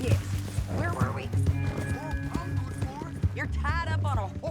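Horse hooves clip-clop steadily in Red Dead Redemption 2, the horse near Saint Denis carrying a captive, with an occasional whinny, under constant talk and background music.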